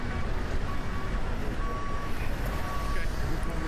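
A small tow truck in a video game reverses with steady, repeating high beeps over a dense, loud rumble of engine and game noise, with chatter in the background.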